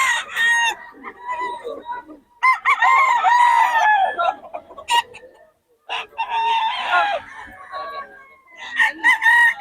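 A Lemon Sweater gamecock crowing and clucking nearby, several loud rooster calls and clucks in bursts separated by brief pauses, with other birds audible around it.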